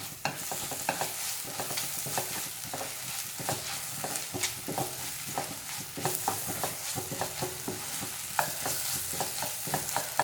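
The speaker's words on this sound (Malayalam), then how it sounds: "ഇനി ഇതിൻ്റെ പച്ചമണം മാറണ വരെ നന്നായിട്ട് തന്നെ ഒന്ന് വഴറ്റിയെടുക്കാം" Chilli and pepper powder masala for a country chicken curry is sautéed in oil, with a steady quiet sizzle and frequent sharp clinks and scrapes of a spoon stirring in the pan throughout.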